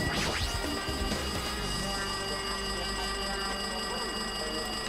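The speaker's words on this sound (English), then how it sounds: "Looks like that phone's ringing." Phone ringing inside the video game Danganronpa 2, a steady continuous electronic ring with dense tonal layers and a persistent high whine, loud and unbroken throughout with no talk.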